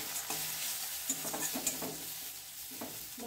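Ground turmeric, cumin and Kashmiri chili powder cook down in a pan with a splash of water. A soft sizzle runs under intermittent scraping stirs, fairly close and without talk.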